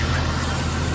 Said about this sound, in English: I am not hearing anything other than the engine running